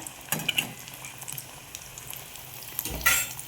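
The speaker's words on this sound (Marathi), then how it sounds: "म्हणून मी थोड्याच तेलामध्ये तळून घेत असते" Vadas for vada pav fry in a little oil in a kadhai. A soft, close bubbling sizzle is broken by a few louder clatters and stirring bursts near the start and end.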